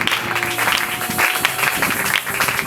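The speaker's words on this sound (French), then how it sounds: "on peut acclamer pour cette parole." Church congregation at a Sunday worship service clapping together, a loud, close burst of rhythmic applause with some voices mixed in, continuing without a break.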